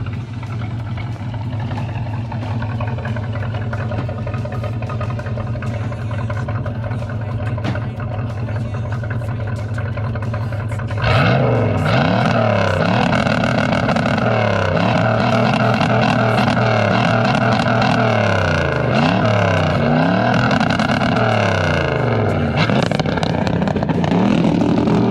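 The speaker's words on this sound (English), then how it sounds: "it's been so long since I've heard the rev limiter" A car engine idles steadily in a garage, then roars up sharply and bounces off its rev limiter, pitch wavering up and down in a loud, sustained stutter.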